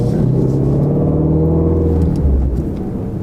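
A 2019 Ford GT350R cruising gently, its engine giving a low steady rumble from inside the cabin, fairly subdued with a slight shift in pitch near the end.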